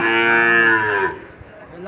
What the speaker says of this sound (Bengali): মোটামুটি সুন্দর আছে বাছুরটা সাইওয়াল জাতের বাছুর